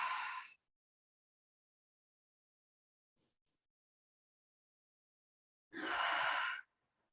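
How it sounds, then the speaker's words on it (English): Deep, slow breathing during a yoga stretch: a long breath at the start, a stretch of silence, then another full breath near the end, close and alone. "Inhale through your nose, exhale, open mouth."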